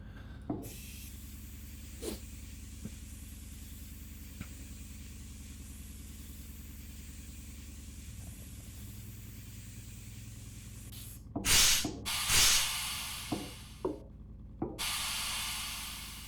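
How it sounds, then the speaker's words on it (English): Spray cleaning in the survival game Occupy Mars: a steady mechanical hum underlies most of it, then several short, bright spray hisses burst near the end, followed by a longer hiss. "So you gotta give those a quick spritz to make sure they're all clean"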